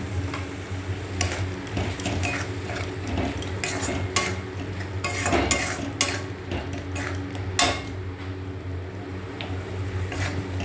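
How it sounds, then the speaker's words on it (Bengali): A spoon scrapes and stirs spice masala frying in a pan for a spicy crab curry, giving irregular clinks and taps over a low steady sizzle, close by with no talking. "এবার মশলাটাকে সুন্দর করে কষিয়ে নেব।"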